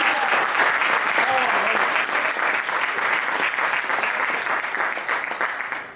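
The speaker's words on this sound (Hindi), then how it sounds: "आपकी तालियां सुनकर मुझे लग रहा है कि मैं बहुत सौभाग्यशाली हूँ" Audience applause at a kavi sammelan poetry gathering, a strong wash of clapping that holds steady and then tapers slightly toward the end, close and loud.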